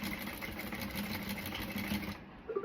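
Sewing machine running steadily as it stitches a seam over a garment's inside label and tab, a continuous close mechanical whir with fine rapid rhythm that stops abruptly near the end.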